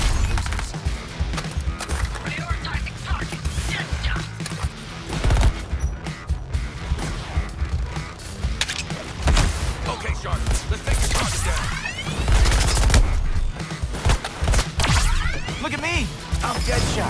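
Rapid bursts of gunfire and impacts from the video game Suicide Squad, loud and dense with whooshes and crashes, while voices talk over the action.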